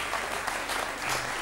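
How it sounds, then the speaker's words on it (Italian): A television studio audience in a 1998 Italian variety show applauds steadily, a dense, even wash of clapping that stays loud throughout. "vi prego di proseguire questo applauso"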